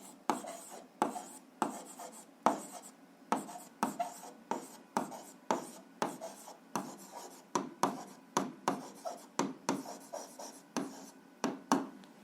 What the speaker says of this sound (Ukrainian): то записуємо, що це пряма пропорційність